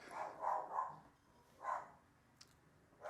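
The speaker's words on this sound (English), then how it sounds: "She's barking at people upstairs." A dog barks repeatedly from downstairs, its muffled barks coming in short bursts and sounding indoors and somewhat distant, alone without talk.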